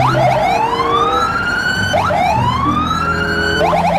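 Toy police car siren wailing in repeated rising sweeps, loud and close, each cycle about two seconds, with no talk over it.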